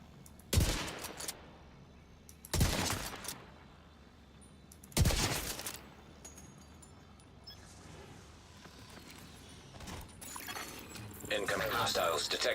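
Fast bursts of automatic rifle fire from The Division video game ring out three times in close, loud volleys, then give way to quieter scattered shots, mechanical clatter and rising background noise.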